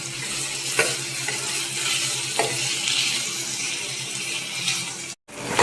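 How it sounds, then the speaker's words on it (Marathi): Garlic and ginger sauté in about three spoonfuls of hot oil for a rustic dal, a continuous close sizzle with a few stirring scrapes before a brief cut near the end. "हे लसूण आलं हे आपण घालून घेऊया. ते आता परतून घेऊया."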